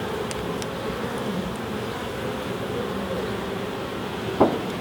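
Honey bees fly around an opened hive during an inspection, a steady, dense buzzing drone that fills the whole stretch evenly, with one brief sharper knock near the end.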